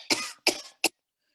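Three sharp, harsh coughs in quick succession, a person imitating a hacking cough, each burst shorter than the last, then silence.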